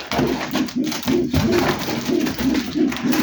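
Repeated soft, low cooing from young female pouter pigeons in rhythmic bursts, close by, with a steady background hum.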